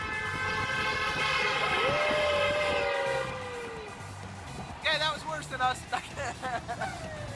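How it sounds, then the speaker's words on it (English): A steady rumbling roar fills a tunnel, with a long tonal horn-like drone, then fades as voices chatter over quieter background noise. "Tunnel time. Sounds like a train."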